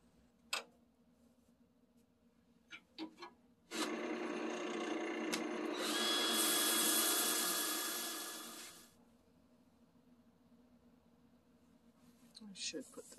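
Sandpaper rasps against a spinning cherry wood piece on a wood lathe, a steady loud hiss running for about five seconds and swelling in the middle before fading, with faint knocks before and after.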